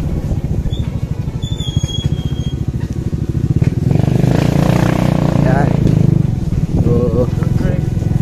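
A motorcycle engine drones loudly and steadily nearby, rising in a throaty surge midway, with people talking over it.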